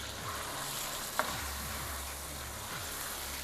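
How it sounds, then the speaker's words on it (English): Onions and peppers fry with a constant hiss in a pan while a utensil stirs them, giving one sharp clink midway, under a low repeating background hum, close by and without talk. "We're gonna add our onions and peppers"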